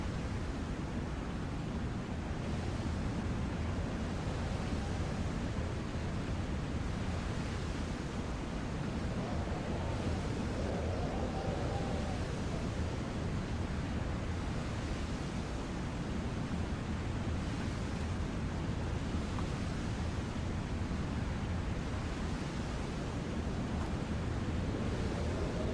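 Steady broadband ocean wash and surf roar in a WWII-era submarine video game, continuous and loud with no clear individual wave breaks and no talk.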